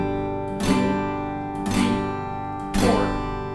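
Three slow, even down strums on a guitar, one per beat, each a full bright chord that rings and sustains into the next, played alone without any voice.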